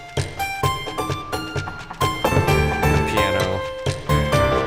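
Full song mix with piano and layered percussion added, dense rhythmic hits driving under sustained melodic tones, steady and fairly loud throughout.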